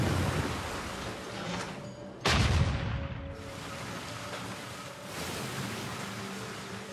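A single loud booming cannon shot in the video game Civilization VI cuts through a constant rushing background roar, then the roar carries on.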